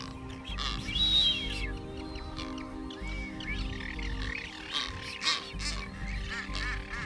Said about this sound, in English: The walls of the crater echo with the honks and whistles of the courting pairs.